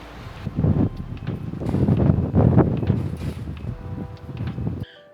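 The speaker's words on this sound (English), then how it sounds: "It's still very windy" Strong wind buffets the microphone on a paved mountain road along Nepal's Annapurna Circuit, a heavy, rumbling roar that surges and fades in gusts for several seconds before cutting off abruptly, with no talk.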